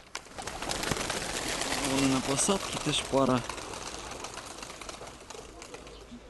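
Racing pigeons at a loft coo in low, throaty repeated calls, clearest in two short bursts midway, while someone talks nearby.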